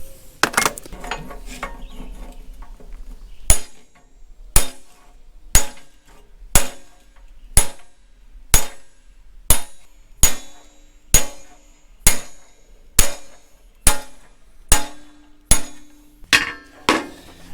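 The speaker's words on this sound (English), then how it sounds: "I like a heavy ball peen and this old section of rail." A heavy ball peen hammer rings out on steel set over an old section of rail while a Caterpillar D2 part is bead rolled. The blows are loud and close, at a steady pace of about one per second, with a few scrapes between them.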